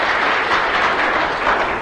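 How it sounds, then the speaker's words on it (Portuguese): An audience applauding at a seminar, a dense, continuous wash of many hands clapping, loud and close, steady throughout the short burst with no voices above it. "Palmas para a Brenda de novo."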